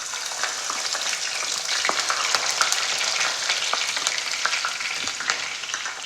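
Chopped ginger frying in hot oil with browned fenugreek seeds, cooked for an anchovy (netholi) roast, gives a steady, dense, close sizzle with small crackles and pops throughout and no voices.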